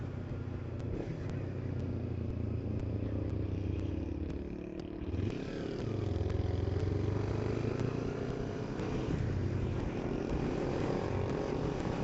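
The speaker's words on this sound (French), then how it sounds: "Ah, c'est un scrambler fait maison, ça." A homemade scrambler motorcycle engine drones steadily at close range, dipping briefly before revving back up and holding a buzzing, throaty tone.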